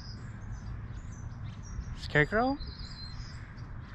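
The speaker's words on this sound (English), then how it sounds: "Birds singing." Birds singing outdoors, faint chirps and tweets scattered in the distance, with a brief spoken question and a quick squeaky call cutting through the middle.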